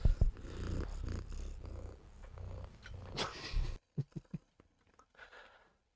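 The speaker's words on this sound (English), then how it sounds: "Did you hear the purr?" A cat purrs steadily and close by for several seconds, a low rumbling drone, followed by a few soft snuffles and quieter rustling.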